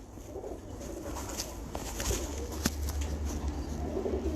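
A pet pigeon named Pathan coos softly against a steady, noisy outdoor background, with faint low calls scattered through the short stretch.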